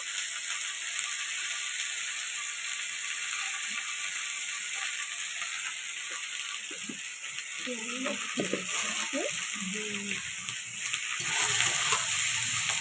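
Turmeric and chili powder cooking in a pan with a soft, steady frying hiss and a few scraping stirs near the end, fairly quiet and close, with a faint voice in the background.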